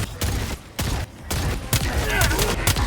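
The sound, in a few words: heads exploding in the video game Helldivers 2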